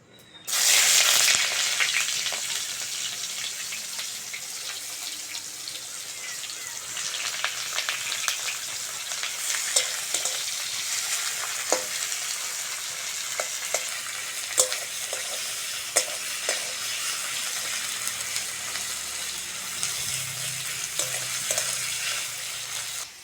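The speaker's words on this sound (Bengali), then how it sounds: "প্রথমে দিয়ে দেবো দুটো শুকনো লঙ্কা, সঙ্গে দেবো একটা বড় কুচনো পেঁয়াজ।" Two dried red chillies and a large chopped onion frying in a pan, a loud steady sizzle close up with scattered crackles and spoon clicks, continuous throughout without talk.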